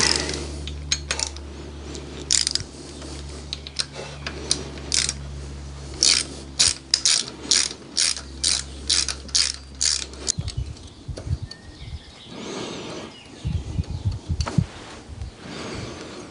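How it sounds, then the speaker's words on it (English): Ratchet working on the intake cam sprocket of an Alfa Romeo 156 engine during a timing belt job: a series of quick, evenly spaced clicking strokes up close, followed by looser metallic clanks and tool handling. "Right, so we'll pop off the intake cam sprocket. It shouldn't be very tight."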